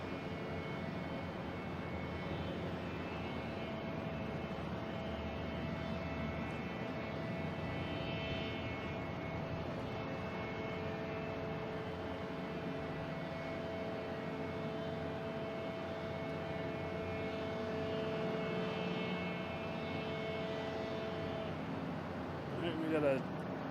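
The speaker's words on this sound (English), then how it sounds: "We got American Airlines here coming in from Chicago," An American Airlines plane arriving from Chicago at Boston Logan International Airport gives a distant, steady engine roar that holds for the whole stretch, with a faint rise toward the end.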